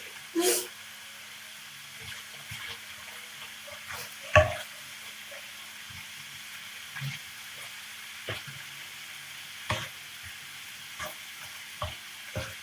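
Pork fries quietly in a pan, a faint steady sizzle broken by sporadic clinks and scrapes as it is stirred.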